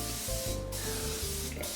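Cooking spray hisses steadily from a can onto an 8x8 baking pan, close and continuous with a couple of short breaks, over some low background rumble.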